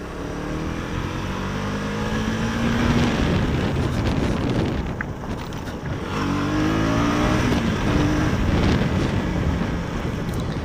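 A KTM Duke 250 motorcycle engine and exhaust revving loudly and continuously, close up, with wind buffeting the microphone and rising and falling engine tones as it accelerates.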